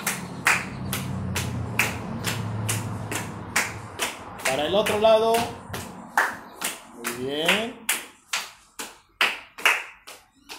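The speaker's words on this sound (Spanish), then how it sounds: "Ahora vamos a marchar alrededor sin dejar de aplaudir." Children keep clapping while marching around in a school physical education class, a brisk run of sharp, regular claps close by, with an adult voice speaking twice in the middle.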